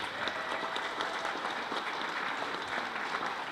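A crowd at a Dorchester winter farmer's market celebration gives a round of applause. The clapping is steady and fairly distant, a continuous wash of many hands with no talking over it.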